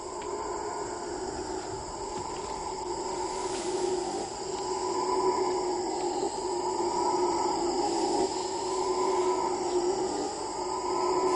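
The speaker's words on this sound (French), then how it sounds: "Avec pour toile de fond le chant des singes hurleurs, Bruno rejoint Cathy." Howler monkeys call from a tropical forest canopy, a steady distant droning roar that swells and holds throughout, layered over a constant high insect hiss.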